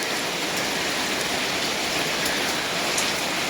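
Steady, gentle rain falls in an even, continuous hiss, with an occasional louder drop and no voices.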